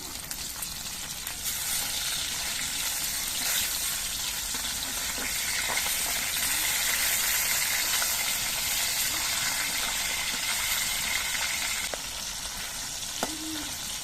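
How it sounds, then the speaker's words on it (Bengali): Pieces of katla fish fry in hot oil in a pan, a dense steady sizzle and crackle that fills the whole stretch close up, with a few faint clinks and no talking. "মাছগুলোর এক পিঠ কিছুক্ষণ ভাজা হয়ে যাওয়ার পর মাছগুলো আমি উল্টে দিচ্ছি"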